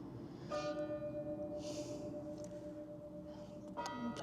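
A church bell in a 13th-century church rings with two clear struck tones whose ringing hum lingers, heard at moderate distance over quiet background noise.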